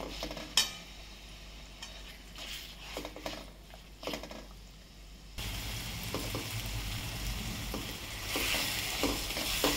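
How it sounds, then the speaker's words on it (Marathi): Masala with chilli powder sizzles in oil in a kadai, first with scraping, clinking stirring sounds, then a sudden, steady, louder frying hiss filling the second half. "हा पूर्ण मसाला आता मी ह्यामध्ये असा घालून भाजणार आहे"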